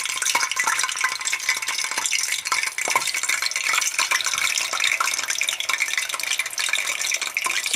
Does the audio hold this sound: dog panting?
no